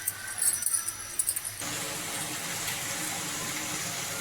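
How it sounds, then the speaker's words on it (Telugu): Water is poured into a cooking pot for Rayalaseema pullagura. A few clinking knocks come first, then a steady close rush of pouring water that runs on without a break. "కొంచెం వాటర్ వేసి"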